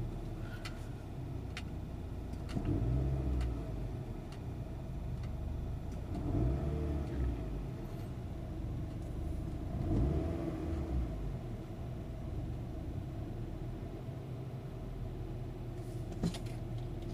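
A Toyota Camry ACV30 engine with an electronic throttle revs three times in short, even blips over a steady idle rumble, heard close with no talking.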